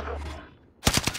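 A burst of rapid gunfire from a video game weapon erupts after a short lull, several sharp, loud shots in quick succession.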